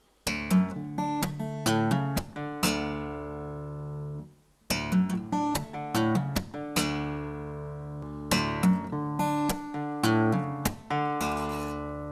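Fingerpicked acoustic guitar with sharp percussive slaps, a repeating riff with ringing chords and brief pauses between phrases.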